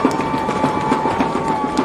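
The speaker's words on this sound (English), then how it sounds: "It is getting loud up here, as you hear on our crowd mic." Tiger fans in the stands at a youth football Super Bowl, Little Division, Chargers vs Tigers, roar loudly and steadily, with a fast, regular pounding beat of stomps or claps running through the close crowd noise.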